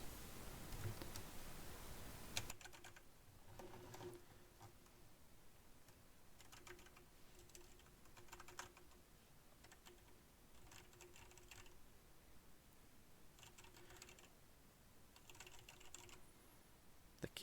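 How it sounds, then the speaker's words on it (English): Quiet typing on a Logitech G910 keyboard with hybrid mechanical keys, picked up by a Neewer NW-800 microphone: bursts of soft key clicks at a moderate pace come through bursts and pauses over a faint background hiss, with no talking. "The keyboard's a G910, so it's got some hybrid mechanical keys."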